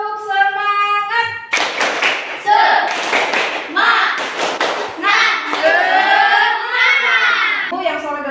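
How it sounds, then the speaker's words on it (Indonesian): Children chant 'tepuk semangat' together, their voices rising and falling over rhythmic group clapping and hand slaps in a lively, close classroom setting. "Tepuk semangat."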